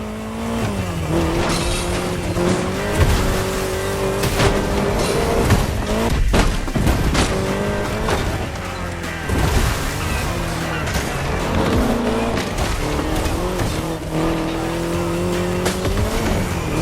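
An Austin Mini Cooper S races in The Crew Motorfest, its engine whining steadily through gear shifts while tires squeal. Road and wind noise stay loud and continuous throughout, with other cars roaring nearby.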